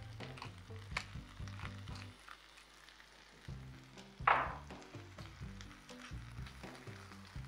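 Mushrooms sautéing with salt in a frying pan make a close, steady sizzle with stirring and occasional scrapes and clinks, and a voice speaks over it at times.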